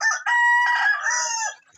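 A rooster crows once, loud and close, a full drawn-out call that rises and then fades at the end, with no talk over it.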